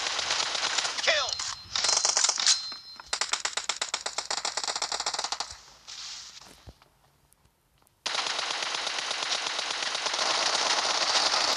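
Rapid bursts of pistol gunfire in the PUBG Mobile game, loud and close, firing in dense rattling strings with short pauses, a brief quiet gap, then a sustained stretch of continuous shots.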